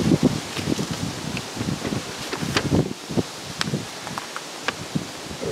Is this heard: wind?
yes